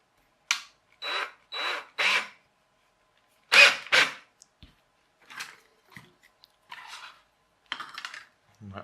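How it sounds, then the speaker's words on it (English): Several short bursts of a small high-pitched drill whine in quick succession, close up, drilling a small centre hole in a wheel for a rubber band car, separated by silences, followed by quieter scattered clicks and taps. "I'll just drill a little hole."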